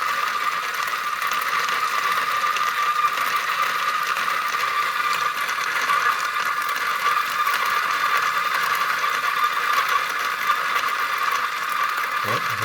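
A low-RPM coffee grinder fitted with a homemade bean-feeding mod, tape holding it together, gives a steady mechanical whir with a fine ratcheting rattle that runs continuously and evenly throughout.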